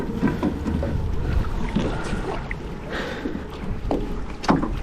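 A small sailboat is pushed off from the shore of Joes Pond in Vermont, with water sloshing and knocking against the hull under steady wind noise, and soft bumps and scrapes close by.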